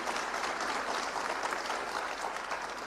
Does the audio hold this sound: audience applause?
yes